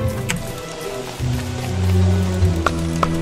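Steady rain patters and hisses throughout in the video game Don't Starve: Reign of Giants, with a few sharper drops and low droning tones beneath.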